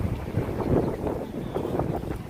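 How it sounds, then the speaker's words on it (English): Gusty wind buffets the microphone on a New York City street, a low, rumbling roar that surges and eases continuously. "It is windy."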